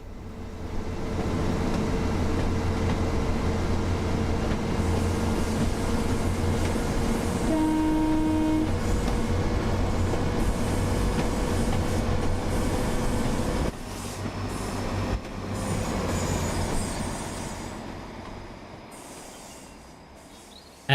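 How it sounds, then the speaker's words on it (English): A train runs on the Boston Providence route in Train Sim World 5, a steady loud rumble of wheels and carriage with a sustained horn blast partway through, fading slightly toward the end, with no talking. "It's always funny when you get an extra train on Boston Providence that you're not really expecting."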